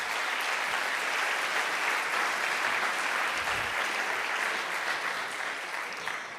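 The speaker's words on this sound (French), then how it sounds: "on peut les applaudir" Warm applause from an audience at a school award celebration, dense and continuous, gradually thinning near the end.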